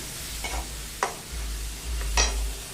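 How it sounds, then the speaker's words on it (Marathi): Tomato puree sautés in a pan over medium heat, with a soft background sizzle, a low steady hum, and a few scraping strokes of a spoon stirring. "ही टोमॅटोची प्युरी जी आहे ही खूप छान मस्त अशी परतून घ्यायची"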